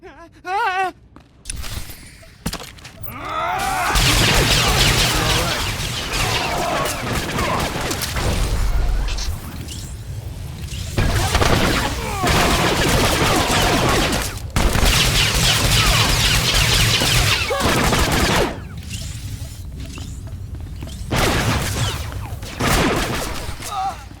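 Bursts of blaster fire in Star Wars: The Old Republic, loud repeated volleys and booms in a close firefight on Tatooine, with voices and groans mixed between the shots.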